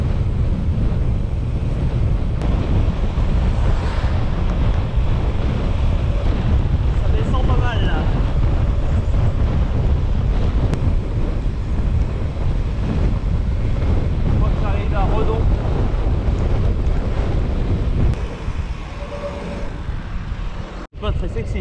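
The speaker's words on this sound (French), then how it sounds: "Et putain, le vent." Strong wind roars and buffets the microphone continuously near the village of Saint-Jean-la-Poterie, France, a dense rushing noise that barely lets up for the whole stretch.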